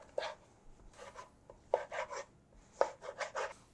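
Knife cubing beef for Neapolitan pasta alla Genovese on a cutting board, soft dull chops and scraping in short clusters of three or four strokes with brief pauses between.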